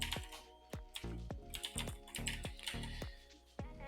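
Keys clack on a computer keyboard in a quick, uneven series of close, crisp taps, around a dozen strokes in a few seconds, with no voices.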